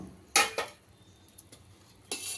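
Tomatoes tipped into a pot while making palak pappu, spinach and lentil curry, giving two quick clattering bursts against the pot, a couple of faint knocks, then a longer rustling clatter near the end, close and fairly quiet.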